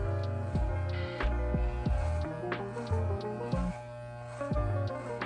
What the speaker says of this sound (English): I'm gonna put my number one guard onto the clipper, just like that.